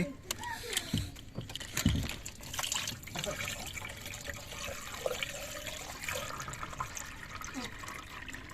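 Water rushing and draining steadily from a washing machine, with voices talking over it.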